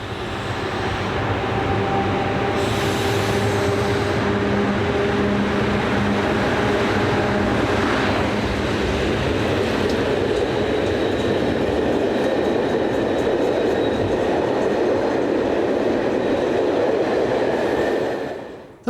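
A CFL class 3600 electric locomotive, number 3620, passing through a station while heading north, a steady loud rumble with rail clatter lasting the whole pass before fading at the end.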